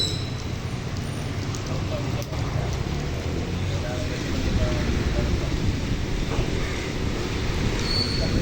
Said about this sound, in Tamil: ஒரே மழை பெய்து ஒன்று இருக்குது